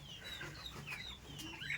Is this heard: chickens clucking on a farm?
yes